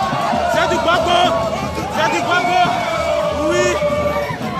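Dense crowd of Gbagbo supporters in Côte d'Ivoire, a steady roar of many overlapping voices and shouts close around, with no single voice standing out.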